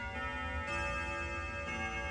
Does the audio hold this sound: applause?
no